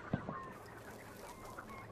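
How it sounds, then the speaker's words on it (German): Faint duck quacks in Hunt: Showdown, a couple of short honking calls near the start, then quieter ambient game sound, with no talking. "Enten rechts."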